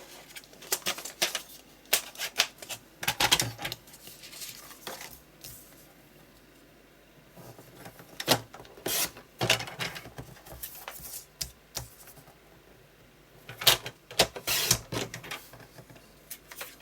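Card stock being cut for handmade Halloween cards, heard as quiet, scattered bursts of slicing and rustling paper separated by brief pauses, with no talking.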